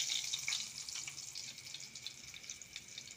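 Homegrown tomatoes frying in oil with a cumin tempering, a soft, steady crackling sizzle with faint pops, close but low in level, with no talking.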